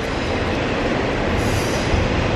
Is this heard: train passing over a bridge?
yes